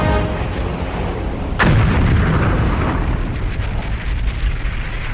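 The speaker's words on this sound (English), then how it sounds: "One Avenger unleashes its rockets on a small arms factory." A sudden heavy blast of Avenger plane rockets striking a small arms factory, with rumbling debris and crackle trailing off over continuous low battle noise.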